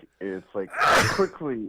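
A sneeze bursts out in the middle of a man's speech, a single sharp, noisy blast lasting under half a second, loud and close, with talking just before and after it.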